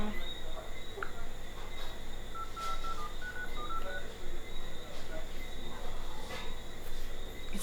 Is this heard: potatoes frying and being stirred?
no